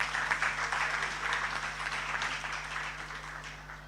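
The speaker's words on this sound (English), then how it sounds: "If you all agree, should we give a clap?" An audience at a student council welcome-week summit claps together at the close of a meeting, a dense, even wash of applause that eases off slightly toward the end.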